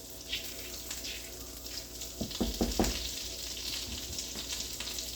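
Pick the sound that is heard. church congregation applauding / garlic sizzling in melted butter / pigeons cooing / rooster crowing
garlic sizzling in melted butter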